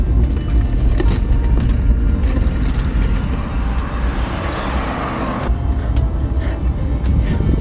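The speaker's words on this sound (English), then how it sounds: "Car." A car passes a cyclist touring on a road near Point Roberts, USA, its engine and tire roar loud and close as it sweeps by, continuous over the whole stretch with constant road and wind noise.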